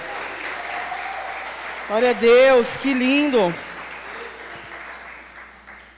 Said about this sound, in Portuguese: Amém, aplauda mais forte